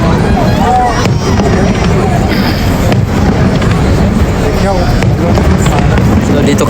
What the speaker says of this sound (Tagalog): Ang tagal po ng fireworks